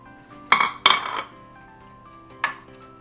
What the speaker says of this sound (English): Okay, so now we're gonna add our eggs.